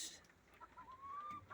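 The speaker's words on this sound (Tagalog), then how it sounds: "Dito tayo ngayon sa aming poultry guys." Backyard chickens in a small poultry flock of about sixty birds, giving faint, scattered clucks and short calls at a distance over quiet background noise.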